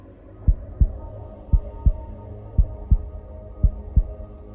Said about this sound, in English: Can you hear her heart beating?